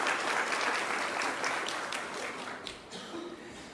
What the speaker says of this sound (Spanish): Les damos otro aplauso de bienvenida a las personas.